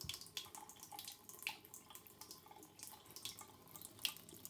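A small, light stream of water trickles from a garden hose near a composting toilet setup, a steady soft splashing and dribbling with faint drips, close by and fairly quiet, with no talking.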